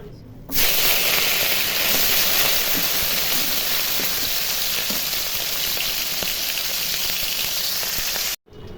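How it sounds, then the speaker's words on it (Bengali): Broiler chicken meat drops into hot oil and erupts into a loud, dense, continuous sizzle and hiss that holds steady for several seconds before abruptly stopping. "তেল গরম হয়ে গেছে, এখন মাংসগুলো ভেজে নিব।"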